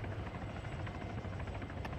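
Helicopter in the video game Arma 3 idling or hovering nearby, a steady low rotor thump and engine drone holding constant throughout.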